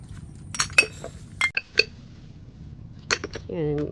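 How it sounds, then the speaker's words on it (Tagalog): Empty tin cans, pesticide containers used for rice plants, clink and clatter together in a few sharp metallic knocks spread over several seconds, with a brief voice near the end. "Daming lata."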